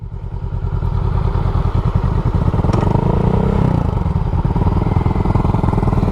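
Honda Grom motorcycle engine revving and riding past close by, a loud, steady buzzing putter with a pitch shift as it passes, no talk.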